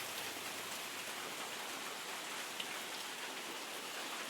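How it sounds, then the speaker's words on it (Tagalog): Rain pours steadily on a worn, holed roof of a small hut, a dense even hiss of falling water with constant patter and no pauses, close and alone. "Tumutulo na yung mga ulan"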